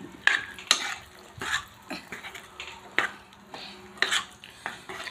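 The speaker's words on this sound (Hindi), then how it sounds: "छोले डालने के बाद अच्छे से मिला देंगे।" Chickpeas being stirred into gravy in a cooking pot, with a series of soft irregular scrapes and clinks of a spoon against the pot, fairly quiet and close, with no talking.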